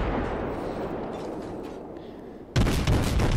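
Heavy naval gunfire from the battleship Tirpitz in World of Warships, a long rumbling roar that fades over a couple of seconds before a sudden loud booming blast bursts in near the end.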